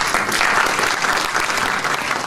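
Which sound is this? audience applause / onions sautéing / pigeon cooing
audience applause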